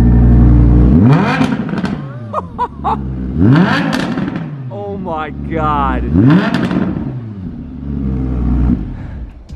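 A powerful supercar engine revs repeatedly in race mode, rising and falling in sharp sweeps with crackles and pops, loud and close, while a person briefly exclaims.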